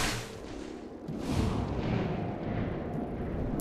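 Gunshot in the XCOM Chimera Squad video game, a booming blast followed by a second rolling, rumbling report that fades slowly, with no talk.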